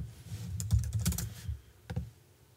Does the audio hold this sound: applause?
no